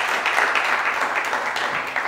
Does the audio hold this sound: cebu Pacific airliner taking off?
no